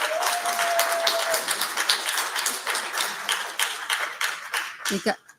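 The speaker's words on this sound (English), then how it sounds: "I don't want anybody clapping or booing." Audience clapping at a county commission meeting, a sustained round of applause with scattered voices, fading out near the end.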